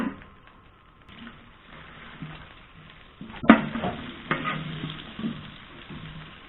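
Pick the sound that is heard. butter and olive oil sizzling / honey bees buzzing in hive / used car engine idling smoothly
butter and olive oil sizzling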